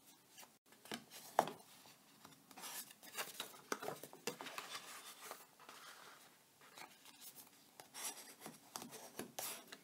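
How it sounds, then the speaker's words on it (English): Soft, intermittent scraping and rubbing as a crease tool folds scored paper card stock for a tri-fold card, quiet and close with brief sharp strokes. "We're going to take our crease tool right here and just fold our creases nice and even"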